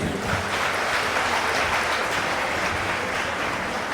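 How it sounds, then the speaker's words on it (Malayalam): A church congregation claps together in steady, dense applause that fills the whole stretch at an even, fairly loud level, with no voice standing out above it. "കർത്താവിന് കൈയടിച്ച് നന്ദി പറഞ്ഞേ"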